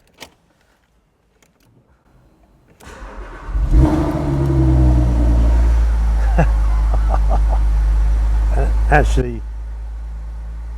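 A Porsche 987 Boxster Spyder engine starts after a quiet moment and settles into a loud, deep, throbbing idle with a strong low rumble lasting several seconds before cutting off, with a brief word spoken at the start.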